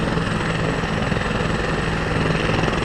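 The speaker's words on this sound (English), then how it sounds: "Copter 17, a Bell helicopter, part of the Los Angeles County Fire Department's air operations fleet, is going to be taking off from this grass patch momentarily" A Bell helicopter of the Los Angeles County Fire Department air operations fleet sits on a grass patch. Its engine and rotor make a dense, steady, loud whine and roar that fills the whole clip, heard up close.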